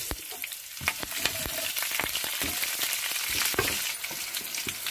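Chana dal sizzles in hot oil with dried red chillies, green chillies and curry leaves while a spoon clicks against the pan, a tempering for okra chitranna rice. The frying is a steady close crackle with no voices.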